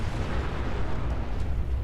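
A deep, sustained rumbling roar from an explosion in the video game Fallout 4 fills the whole moment, like the drawn-out aftermath of a large blast, steady and loud throughout.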